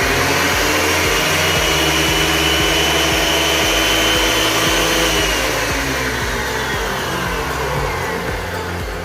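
A wood planer runs freely during maintenance, a loud, steady motor whine and hum with a faint rhythmic thump from the rotating parts, close and continuous without any talk.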